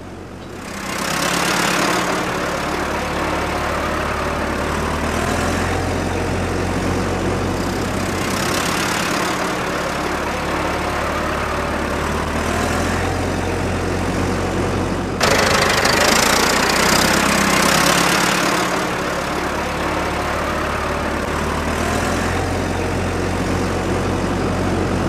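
Tractor engines working a ploughing field at a vintage tractor event in Notts, a steady mid-pitched chugging drone that swells and fades as machines pass, continuous and fairly close.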